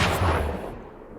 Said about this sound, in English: An explosion, almost like that heard when a small cannon is fired, followed, and he fell backwards onto the ground from the recoil.